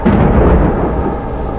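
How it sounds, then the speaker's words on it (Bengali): Heavy rain and wind pour down during a loud thunderstorm, with a deep rumble of thunder filling the short burst close and powerful, and no voices. "চারপাশে কেবল বৃষ্টির শব্দ ঝড়ো হাওয়া"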